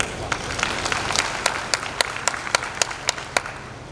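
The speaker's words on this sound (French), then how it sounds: "Veuillez encore l'applaudir s'il vous plaît" Audience at an investors and entrepreneurs gathering in Dakar applauds a speaker, a sparse scatter of distinct claps picking up into sharper, regular hand claps that stand out over a soft background murmur.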